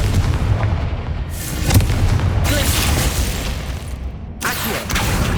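Fire spell explosions in the Hogwarts Legacy video game: loud booming blasts with roaring, crackling bursts that rise and fall, several heavy impacts close together over a dense rumbling background.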